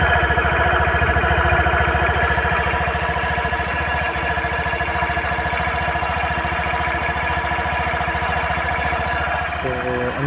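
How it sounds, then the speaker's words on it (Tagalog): A Suzuki Burgman Street 125 scooter idles close by, its engine and exhaust making a steady, continuous putter and drone that holds at an even level throughout. "So yun yung kanyang tunog, yung kanyang exhaust."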